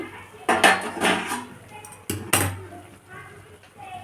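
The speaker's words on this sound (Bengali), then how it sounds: "এরপর আমি চাপাটা খুলছি" Metal lid lifted off a cooking pot with a couple of sharp clanks and clattering scrapes, close by, with a voice speaking alongside.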